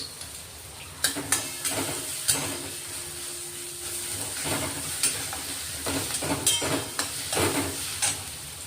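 Garlic paste tipped into onions frying in hot oil with asafoetida for a peanut amti, a steady close sizzle punctuated by repeated scraping stirs of the spoon, no voices.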